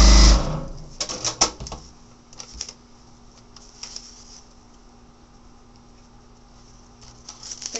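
A sewing machine stitches a paper-pieced quilt seam in short bursts of rapid mechanical patter, a loud start and scattered quieter runs, with no voices.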